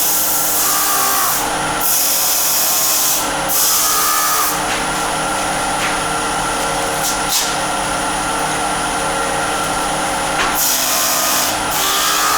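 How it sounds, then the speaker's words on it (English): Natural-edge wood vase being sanded through the grits on a running lathe, a steady loud broadband whir with brief harsher bursts of abrasive hiss where the paper touches the spinning wood, close up and with no talking. "So I'll just quickly go through the grits."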